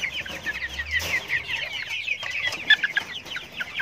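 Chickens cluck steadily at close range while drinking from a waterer, with overlapping calls from several birds and no talk.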